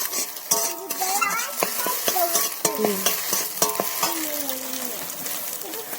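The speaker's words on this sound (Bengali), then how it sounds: "ডিমটা আমি ভেজে নিলাম।" Close-up egg frying in a pan: steady sizzle with sharp scraping and clinking as a utensil stirs against metal, no voices.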